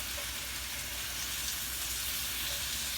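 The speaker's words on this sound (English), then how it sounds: "I'm going to turn it over on its side. Let it get browned on the sides." Bourbon-glazed salmon sizzling as it browns in a pan, a dense, even hiss that holds steady throughout with no talk.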